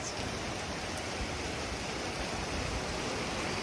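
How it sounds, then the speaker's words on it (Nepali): Heavy rain falls steadily during a hailstorm in Nepal, a dense, even roar that stays loud and unbroken throughout, with no voices. "हाम्रातिर त यस्तो रात अँधेरो भएर पानी आयो"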